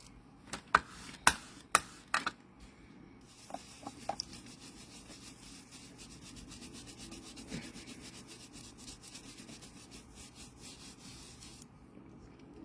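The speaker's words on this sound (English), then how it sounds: "I've used a bigger blending brush for this one because the space is quite large, and you just rub over like so." A blending brush rubs ink across paper in a quiet, close scratchy swishing, with a few sharp taps at the start and then a steady, faint rubbing.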